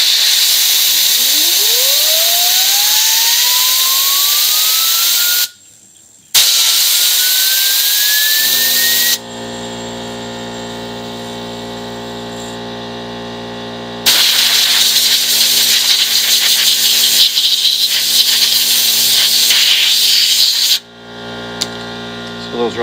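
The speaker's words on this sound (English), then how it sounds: "And then I'm going to blow dry it with compressed air, and I'm going to make a turbo sound." Compressed air blasts through a wheel bearing from a 2001 Ford Ranger, spinning it up into a loud rising whine like a turbo, then cutting out and restarting as steady hissing bursts, close and harsh.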